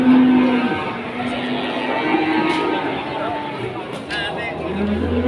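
Cattle low in a busy livestock market at Pasar Pon, Ambarawa, a few moos standing out over crowd chatter and background babble.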